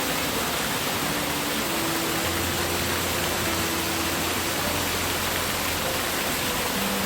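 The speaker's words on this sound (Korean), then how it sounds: "계곡물 소리만 들어도 더위가 싹 가시는 것" Steady, dense rushing of a high-volume mountain valley stream beside a farm hut near Gapyeong, a constant broadband wash of water filling the whole scene with no voices.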